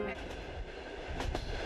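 A Trans-Siberian passenger train running across Siberia on its rails toward Ulan-Ude: a continuous rolling rumble with clickety-clack wheel beats near the end, heard from inside the carriage.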